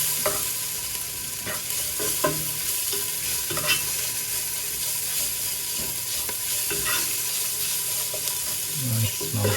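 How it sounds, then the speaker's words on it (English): Ginger being stirred in a hot cooking pot for a chicken curry, a continuous loud sizzle with repeated spoon scrapes and knocks against the pot, no voices. "Now ginger, just gently mix them up."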